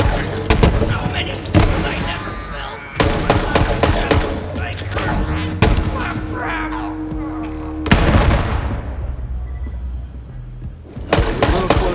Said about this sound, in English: Homing rockets.